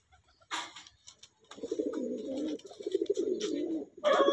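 Pigeons coo in low, throaty, rolling bursts, close by, with a few flapping or rustling noises between calls.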